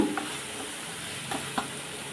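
Fenugreek leaves frying in a pan for methi masala egg curry give a soft, steady sizzle with a couple of faint stirring scrapes, and no talking.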